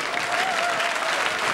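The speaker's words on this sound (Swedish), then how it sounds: "Här brukar folk klappa." A television studio audience breaks into a short, loud burst of steady applause after a balancing trick, with a faint voice briefly audible underneath.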